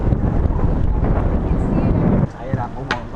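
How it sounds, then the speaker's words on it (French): Heavy wind on a Hong Kong mountain top buffets the microphone in a loud, rumbling roar that drops off suddenly, leaving lighter gusts and faint background sounds. "Il y a beaucoup de vent qui commence à se lever là"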